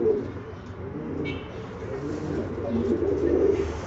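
A pigeon coos in low, soft rolling calls near a loft or enclosure, steady and close, with a faint chirp briefly over it.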